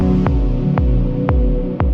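A dub techno synth loop with added reverb, thumping low pulses and airy tonal hits that linger and blur into a washy tail, four beats in two seconds.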